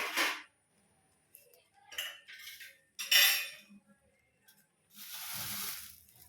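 Dried curry leaves, washed and dried beforehand, crackle and sizzle as they dry-roast in a pan for a moringa and curry leaf powder, heard as several separate bursts of frying noise with quieter clinks and stirring between them and a longer sizzle at the end.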